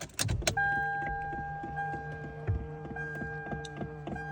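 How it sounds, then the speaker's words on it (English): A Lexus LS 430 with about 143,000 miles starts cold, then idles with a steady high-pitched whine over a rhythmic engine tick, heard close, following a few clunks at startup. "start the cold start in the morning, I hear this very high pitch RPM when I start it"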